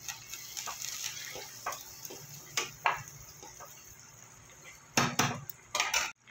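Metal clinks and scrapes as a lid goes onto a pan of aloo posto in a home kitchen, a few sharp taps and clatters, then louder clanks near the end, fairly close.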